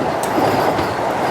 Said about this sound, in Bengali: এটি হচ্ছে পশ্চিমবঙ্গের প্রথম অমৃত ভারত এক্সপ্রেস, যেটি সুপারফাস্ট। উড়িয়ে দিচ্ছে কামারকুণ্ডু।